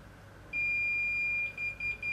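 A steady high electronic beep from a DASQUA magnetic angle finder inclinometer nearing zero angle sounds continuously for about a second, then breaks into short rapid beeps, close by with faint background hiss.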